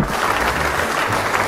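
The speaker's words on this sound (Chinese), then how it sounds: "掌声" A crowd in a comedy movie scene breaks into loud, dense applause, a close wall of clapping hands that holds steady throughout with no talk over it.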